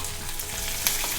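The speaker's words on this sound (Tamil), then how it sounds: "வெங்காயம் வதங்கட்டும்." Sliced onion frying in a pan with urad dal and curry leaves, a steady close sizzle with faint stirring scrapes.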